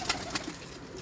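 A Kala Chini Kalanch Rampuri pigeon with white eyes and a white beak coos in a low, close murmur, with two short higher chirps breaking through early in the brief moment.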